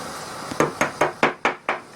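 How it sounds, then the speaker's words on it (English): A hammer taps a pin on a Subaru EA190V pressure washer engine with six sharp, evenly spaced metallic knocks about a quarter second apart, close and clear with nothing else heard. "we need to take a hammer and be very careful"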